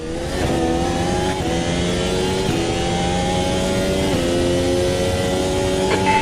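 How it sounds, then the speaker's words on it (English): A Formula 1 car engine lapping Jerez in the racing game AMS2, a loud, close, high-pitched whine rising through the revs with quick gear shifts punctuating each climb. "Enjoy the sound of the Formula 1 engine at Jerez."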